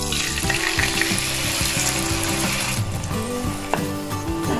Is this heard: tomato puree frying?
yes